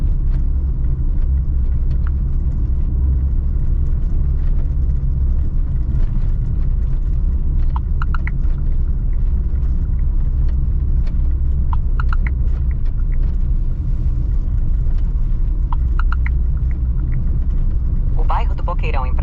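Car driving along the main road through the Boqueirão neighbourhood of Praia Grande, São Paulo, with a steady loud engine and tyre rumble throughout and a few brief higher rattles.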